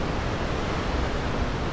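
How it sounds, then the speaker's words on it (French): Wind and surf on a breezy seashore with heavy waves. The roar is loud and unbroken, a steady broadband wash with no pauses and no voices. "c'est un peu venté et il y a beaucoup de vagues"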